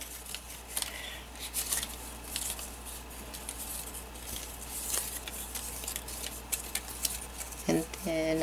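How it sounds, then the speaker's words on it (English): A bone folder is rubbed around a roll of paper, giving soft scratchy rustling and faint tapping strokes close by, quiet and steady, with a brief clink near the end. "So I'm just going to take my bone folder like this all the way around."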